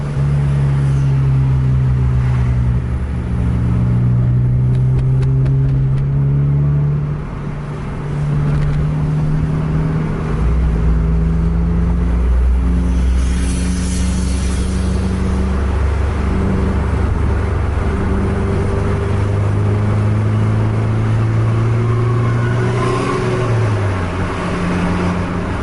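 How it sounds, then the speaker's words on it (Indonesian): Heavy road traffic at night, with a continuous loud rumble of engines and cars and large vehicles passing close by, droning without a break. "Padat lalu lintas."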